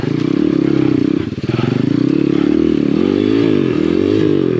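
A Chinese dirt bike labours up a hard enduro Black Diamond trail, its engine droning loud and close with rhythmic pulsing, rising and falling in pitch as the rider pushes through, with scraping and clattering from the rough ground.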